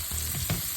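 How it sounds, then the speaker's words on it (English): Chopped celery frying in a pot for Cajun chicken and sausage jambalaya, a loud close sizzle with a brief stir scrape, no talk. "We're gonna add our celery in there. Let that keep frying up"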